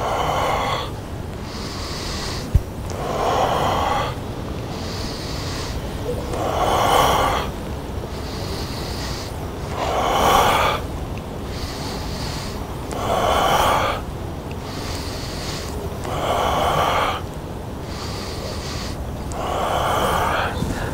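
Slow belly-breathing exercise, with one hand on the belly and one on the chest: about seven long, airy breath cycles spaced roughly every three seconds, each swelling and fading steadily, heard close with no talking.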